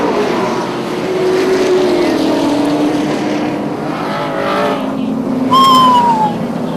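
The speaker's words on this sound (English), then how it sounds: "Scott Grossenbacher, driver's looking for the green flag. It's out. We're racing." Super late model race cars roar around a track, engines droning and shifting in pitch as they pass, building to a loud close pass near the end, with an announcer talking over the racing.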